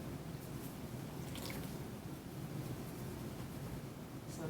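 Water is poured as a rinse during a washing procedure, a steady, faint, continuous splashing wash with no talk over it.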